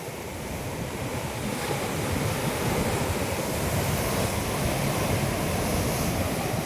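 Rough Arabian Sea surf at rocky Valiathura Beach near the ruined pier, a steady loud roar of crashing waves mixed with wind buffeting the microphone, with no voices.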